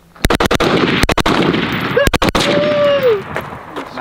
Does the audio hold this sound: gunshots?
yes